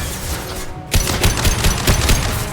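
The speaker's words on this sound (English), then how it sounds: "Firing a high-impact shot." A high-impact rifle shot in Mass Effect 2 comes after a brief lull and is followed by rapid, loud gunfire and blasts that continue densely to the end.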